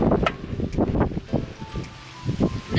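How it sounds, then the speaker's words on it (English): Gusty wind at a campsite buffets and rustles in uneven surges, close and fairly loud, with no talking. "This wind."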